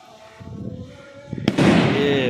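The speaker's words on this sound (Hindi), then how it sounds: "ये पटाखा बज गया" A firecracker set off to mark an announcement at a traditional gathering in Uch Sharif bursts with one sharp bang partway through. Loud crackling and echoing rumble follow, over murmuring voices and a faint siren tone.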